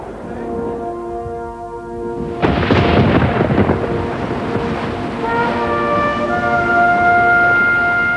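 Thunder cracks sharply and rolls through a heavy storm near the Statue of Liberty, with a ship's deep horn sounding before and after, all over a steady rumble.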